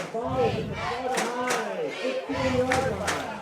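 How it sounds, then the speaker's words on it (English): At a high school football stadium, a crowd chants and cheers in rising and falling group voices, with the Seminole war chant style clearly heard. The sound is moderately distant and fairly faint. "Crowd really getting behind their team here."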